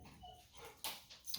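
Pet dog moving around indoors near an airsoft gun practice session, a few faint short whimpering yips and scuffles sitting low in the background with no one talking.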